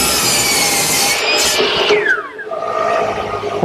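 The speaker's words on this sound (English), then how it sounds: "What I'm using is a stacked dado head cutter with about 3/4 width" A stacked dado head cutter, about 3/4 inch wide, cuts a half-lap joint in wood with a close, harsh rasping whine. Its pitch sweeps down as the blade bites and slows, then the cutter settles back to a steadier hum.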